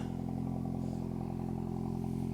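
A Volkswagen Mk8 GTI with an MBRP cat-back exhaust idling steadily, a deep, even rumble and low throb, close by and unbroken.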